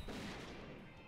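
Gunfire bursts through the whole short stretch as a fairy is shot down in the Agarest: Generations of War PC game, a dense loud crackle of game shots with no voice over it.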